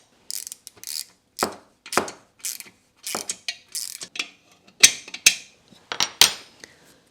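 A ratchet wrench temporarily tightens the cylinder heads of a Citroën 2CV 425cc engine, giving close, crisp bursts of rapid clicking repeated in short strokes with brief gaps between them.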